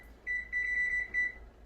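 A kitchen timer being set beeps three times: a short tone, a long sustained one, then another short one. All are clear and close over a faint room hum, with no talk.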